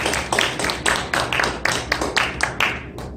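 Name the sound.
congregation clapping in church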